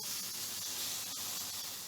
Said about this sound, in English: Look at the sizzle on top there.